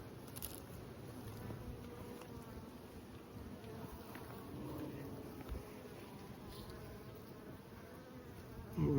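Bees buzzing around an open hive of a large colony, a dense continuous hum heard up close, with faint handling noises and a brief bump near the end.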